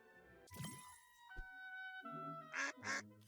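A cartoonish duck quacks in the video game Cell to Singularity, with a couple of honking calls over soft tonal game sounds and two sharp, close quacks near the end.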